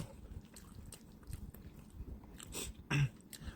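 Chewy Thai instant noodles being eaten up close, with soft repeated slurps, bites and wet chewing sounds in quiet surroundings.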